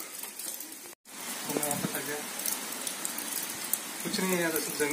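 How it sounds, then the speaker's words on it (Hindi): Steady rain hiss fills the background near Temghar dam, Pune, with people talking over it and a brief dropout near the start. "बारिश रुकी नहीं अभी तक, हम वेट कर रहे रुकने का।"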